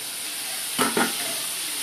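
Onion and tomato fry in a pan for sambar, a steady broadband sizzle running throughout with two short stirring scrapes near the middle, close and moderately loud with no talk.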